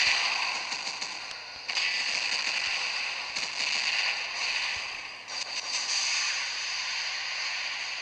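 Rocket pods fire in the War Robots video game in bursts of harsh, crackling blasts that come in several waves over a hissing, noisy background, loud and close, with no talking.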